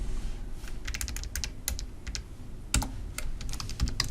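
Typing on a computer keyboard in Word, a close run of quick, crisp key clicks in an uneven rhythm with a couple of heavier keystrokes, no voice.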